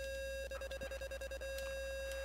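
A rapid series of short, evenly spaced electronic beeps pulses for about a second over a steady tone and low hum, quiet and mechanical, in an A-10 cockpit in DCS.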